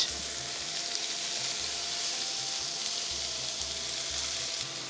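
Sliced onions frying in oil with mustard seeds and curry leaves, producing a continuous dense sizzle close up under a faint low hum, with no talk.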